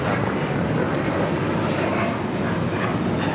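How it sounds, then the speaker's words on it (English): Alaska Airlines Boeing 737-800 airliner taking off from Los Angeles LAX, a loud continuous broadband jet roar heard steadily throughout. "This is Alaska Airlines 1418 taking off to Guadalajara on the 737-800."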